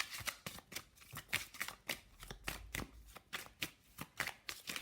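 Love oracle cards are shuffled in quick riffling bursts, a crisp irregular flutter of card edges close up with brief pauses and no talk.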